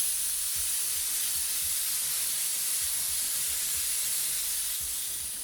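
An airbrush sprays dark green paint in a steady, continuous hiss that holds at an even level and stays close, with no talk over it.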